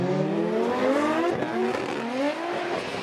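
Toyota GR Corolla and GR86 drift cars in a Formula Drift Japan tandem run, engines revving high and rising in pitch together, with a steady loud roar and tire noise throughout.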